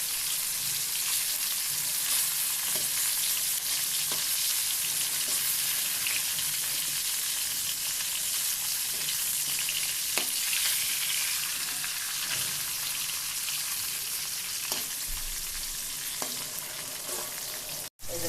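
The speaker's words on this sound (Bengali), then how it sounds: "চুলাটা বন্ধ করে দিয়ে দেবো আর চটপটির জন্য একটু একটা ভাজবো" Steady, dense sizzle of food frying in hot oil in a pan, loud and close, holding constant for the whole stretch with faint occasional clicks and no speech.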